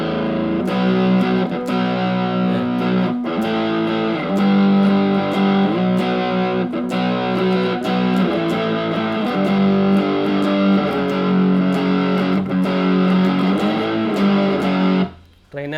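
A budget practice guitar amplifier, a TG-15 or TG-30 type, pushed into crunchy distortion, with loud sustained distorted chords strummed continuously and repeated picked attacks, cutting off abruptly at the end.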